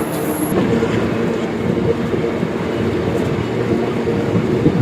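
A passenger train runs on rails while crossing the Latur Vidarbha Express near Daund Junction, a steady loud rumble and rattle of wheels with no speech.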